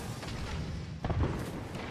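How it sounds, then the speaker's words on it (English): Creeping barrage artillery strike called in by Bangalore in Apex Legends, a dense rumble of distant blasts with one heavier low boom near the middle, rolling continuously over the background. "calling in the creeping barrage"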